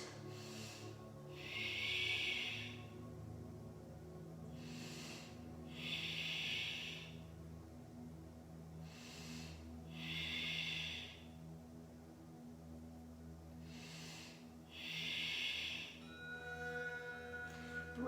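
Slow Ujjayi yoga breathing, with four long, soft, hissing breaths spaced evenly several seconds apart, close and quiet over faint background hum.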